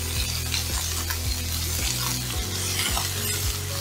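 A veal fillet sears in a hot pan, with a loud steady sizzle throughout and repeated low thumps as the meat is held and turned, close and alone without talk.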